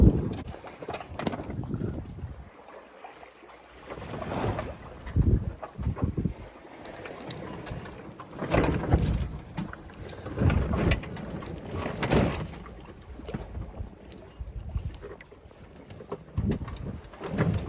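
Sailboat under full sail in lumpy seas and light wind on an overcast passage toward Sardinia, with a low rumbling wash of water and wind buffeting the microphone in uneven surges, no voices.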